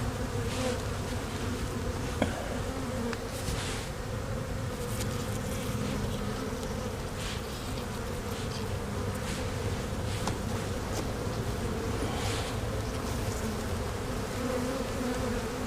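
A dense swarm of bees buzzes around a fallen colony in a swarm trap, a loud, continuous close hum with individual bees droning past, and no voices.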